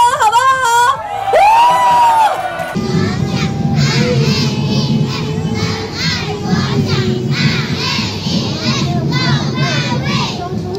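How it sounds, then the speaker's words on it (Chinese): A large carnival parade crowd, many of them children, screams and cheers loudly in the rain, a dense sustained roar of high shrieks and shouts after a host's voice. "来一个尖叫声，好不好？"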